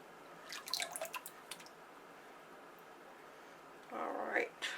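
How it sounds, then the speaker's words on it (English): Lye solution is poured into a soft pink soap mixture, giving faint, quiet dripping and splashing at first, a pause, then a short louder burst of trickling liquid near the end. "Put my lye solution in here."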